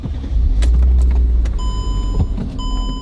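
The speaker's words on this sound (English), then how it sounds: "Smooth running engine" A car engine runs with a steady low rumble, while a few short clicks and an electronic chime sound up close.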